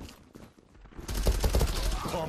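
Gunfire in the online shooter Zula, a rapid automatic burst rattling loudly after a quieter lead-in, close and dense, with voices underneath.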